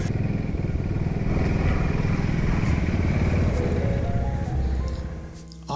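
An ATV engine riding on the island of Amorgos: a loud, continuous close rumble with a rough rhythmic chug that holds steady, then eases and drops off near the end.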